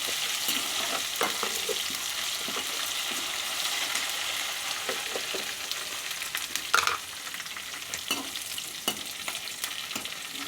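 Curry leaves frying in hot oil for an egg and potato curry, a steady close sizzle with scattered crackles and pops and occasional stirring, no voices.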